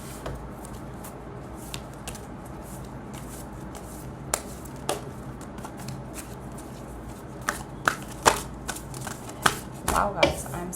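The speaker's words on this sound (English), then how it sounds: "we are still shuffling." Tarot cards are shuffled by hand in short soft riffles and flicks, with sharper snapping card sounds growing more frequent toward the end over a low background hum.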